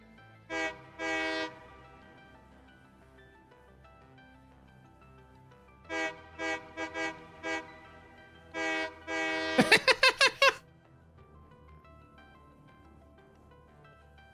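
A train in the video game Satisfactory sounds its horn in several short and long blasts, separated by pauses over a low rumble, with a quick burst of rapid pulses near the end.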